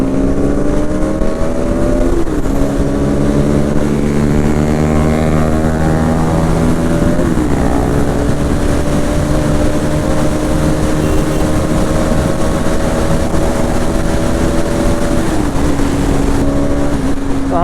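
A Bajaj Pulsar NS200 BS6 motorcycle with a loud exhaust idles and revs up and down in steady, close sweeps of engine and exhaust drone that continue without a break, heard alone with no talking.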